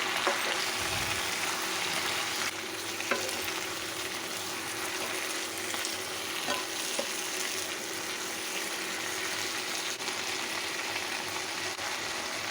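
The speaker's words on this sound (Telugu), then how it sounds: "ఇప్పుడు స్టిక్తో మంచిగా పంట కలిసేలాగా కలపాలి" Sorrel greens and tomato chutney cook in a frying pan with a soft continuous sizzling hiss, broken by a few faint stirring clicks, with no talking.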